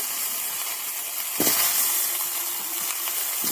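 Cauliflower pieces go into hot oil and fry with a continuous loud sizzle and hiss. A sharp burst of crackling marks the moment they drop in, then bubbling and spattering continue.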